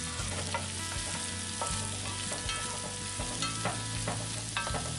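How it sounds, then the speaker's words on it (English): Flour-coated shrimp sizzle loudly in a cast iron pan while being stirred, a steady close frying hiss broken by scraping stir strokes. No voices are heard. "we're going to stir them around a little bit. See the flour on the shrimp is brown"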